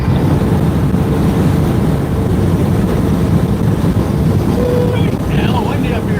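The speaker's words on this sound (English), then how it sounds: "Listen to that wind." Strong wind buffeting a microphone up on a high bridge, a loud continuous rumbling roar that fills the scene, with a voice briefly heard underneath.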